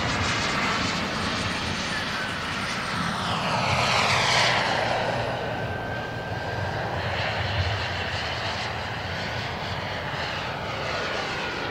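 A military jet taking off at an air show in Kentucky, its engine a loud, continuous roar that swells with a rising whine, then stays powerful and close for the whole stretch.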